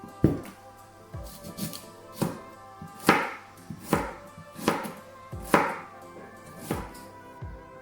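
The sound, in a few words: chopping parsnip into small pieces with a knife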